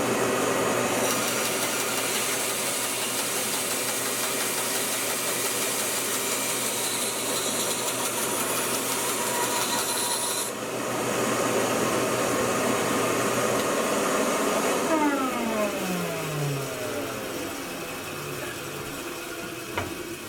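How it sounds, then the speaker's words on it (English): A vacuum cleaner runs in a woodcarving workshop, a loud steady whooshing drone that shifts pitch partway through before spinning down with a falling whine near the end. "Got to use that vacuum cleaner or it gets dusty all around here."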